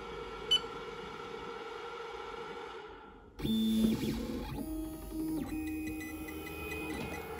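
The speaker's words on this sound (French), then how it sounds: "Et là, vous voyez, ça grave sur mon support." A PIXI Algolaser laser engraving machine starts up after a beep, then runs with a steady mechanical hum and shifting tonal whines from its moving parts as it engraves.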